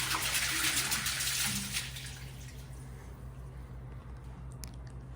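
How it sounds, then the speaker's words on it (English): Water pours down from a waterfall shower in a jungle-themed hotel room in a steady, hissing stream for a couple of seconds, then fades to a softer trickle over a low background hum. "Let's see where the water actually comes out of. Comes down from the waterfall."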